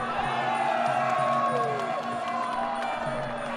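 A crowd cheers at a Muay Thai fight, a loud sustained roar with whoops and shouts rising and falling, while a commentator talks over it.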